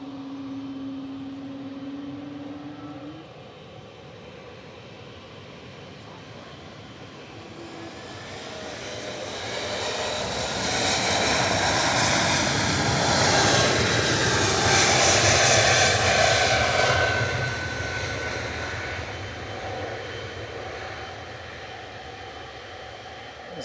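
An Embraer E2 jet airliner bound for Amsterdam makes a turn-and-burn takeoff at Manchester Airport, its engine roar building steadily from a distant rumble to a loud, broad peak before slowly easing off.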